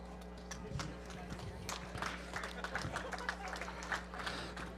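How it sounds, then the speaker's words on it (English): An audience at a Christmas giveaway event claps for a winner, a steady patter of applause from a moderately sized crowd heard at a distance, with a voice talking over it. "how about one more round of applause for all our qualifiers and our sponsors?"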